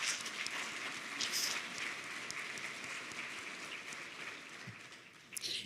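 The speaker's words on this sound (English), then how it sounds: "Let's give them a round of applause." Applause at a cancer summit welcome session, a moderate audience clapping steadily from some distance, fairly faint and sustained with no speech over it.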